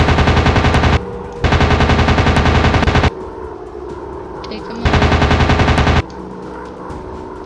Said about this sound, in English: I'm closing in for the shot.